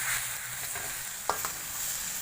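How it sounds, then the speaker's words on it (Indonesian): Ingredients sizzle steadily as they fry in a wok with mushroom stock, sugar and Royco seasoning, with a couple of sharp utensil scrapes and clinks of stirring near the middle. "baru kita aduk-aduk"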